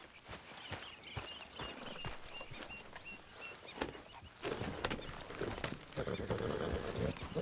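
Steady clip-clop of horse hooves walking in a video game, with a whinny and busy background sounds, close and fairly loud throughout.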